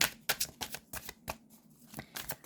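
Tarot cards riffled and shuffled in a series of quick, crisp papery bursts, close and fairly loud, with one card snapping loose and flying out partway through.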